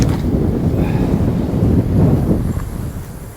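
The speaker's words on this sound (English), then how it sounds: "That wind is absolutely ripping." Strong wind roars outdoors, buffeting the microphone with a loud, continuous low rumble that swells and eases without a break.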